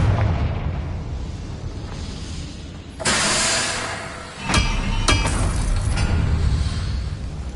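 Confringo blasting spell explosions in the Hogwarts Legacy video game: a loud broadband burst at about three seconds, then several sharp cracks and rumbling blasts over continuous battle noise.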